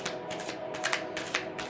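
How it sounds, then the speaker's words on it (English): A deck of tarot cards is shuffled by hand in short riffling bursts, a crisp papery flutter repeating several times in quick succession, close and clear with no talking. "these cards are really hard to shuffle right now"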